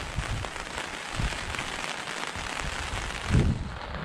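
Steady rain patters on surfaces outdoors in the rural countryside during an eel-fishing trip, a constant close hiss with a few heavier thuds and a louder splash near the end.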